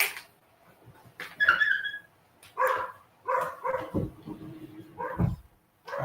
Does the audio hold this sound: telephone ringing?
no